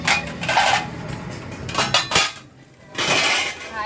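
Dishes and pots being washed after cooking biko, with close, bright clanks and clinks of metal and crockery in quick bursts broken by short pauses and running water.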